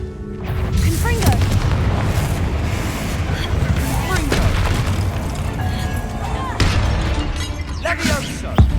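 The Confringo fire spell going off in a game, heard as loud bursting booms and shattering cracks over a busy, dense backdrop, with several sharp impacts spread across the span.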